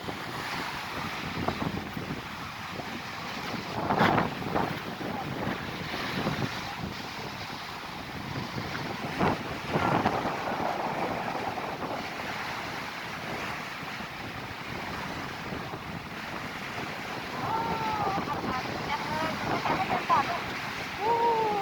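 Wind gusts steadily across the Pa Sak dam reservoir and waves splash against the shore in a continuous broadband roar with rising and falling surges, while a faint voice surfaces briefly near the end.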